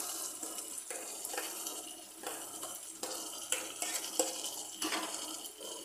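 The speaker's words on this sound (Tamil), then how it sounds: "இப்போ நம்ம இந்த மசாலாவை இதில் ஆட் பண்ணிடலாம்." Masala being stirred into a simmering chicken gravy: soft scraping strokes of a spoon against the pot come in regular sweeps over a faint bubbling, quiet and close.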